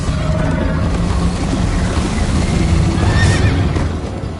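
A horse in the video game Minecraft Story Mode gives a loud, shrill whinny over steady galloping hoofbeats and a rushing game backdrop.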